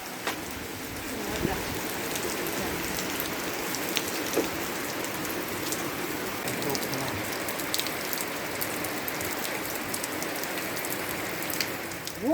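Steady rain falling in a rural village, a continuous close patter on surfaces throughout, with faint speech underneath.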